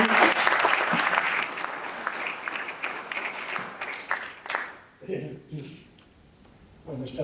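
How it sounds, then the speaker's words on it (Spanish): An awards ceremony audience gives a dense round of applause for about five seconds, then it breaks off into scattered claps and murmuring, with a brief renewed burst at the end. "Vamos a aplaudir un poquito"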